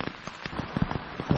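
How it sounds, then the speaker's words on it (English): Rain falling on a Jack Wolfskin Gossamer tent at a Great Langdale campsite in the Lake District, irregular close patters and drops striking the fabric over a soft steady hiss. "as you can hear, it's still raining outside"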